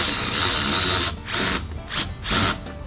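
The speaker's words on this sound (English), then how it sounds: "Thank God for power tools." A power tool whirs loudly in three short bursts, revving up and stopping as it drives bolts while installing a Corsa Extreme exhaust on a C8 Corvette, with mechanical rattling between.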